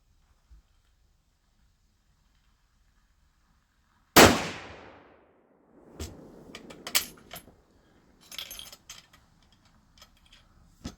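A Martini-Enfield rifle fired at an outdoor range: one loud, sharp crack with a decaying tail, followed by clicks and metallic handling of the action.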